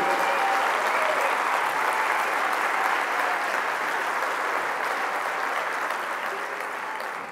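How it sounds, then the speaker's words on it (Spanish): A large audience applauds at a municipal political rally in Alcorcón, producing a dense, steady wash of clapping that stays loud and even throughout and eases slightly toward the end. "Y un aplauso muy fuerte para Jesús"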